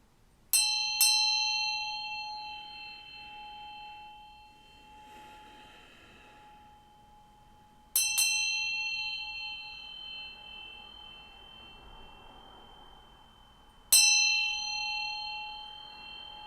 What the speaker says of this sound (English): So I'm going to ring this bell here, so adjust your volume if you need to.